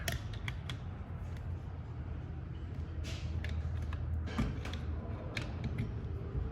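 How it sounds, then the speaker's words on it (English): A small pry bar works a part out of a Toyota 22R power steering pump, producing faint scattered metallic clicks and creaks over a low mechanical rumble, with a sharper pop at the end. "Got to pop that out. Grab that little pry bar."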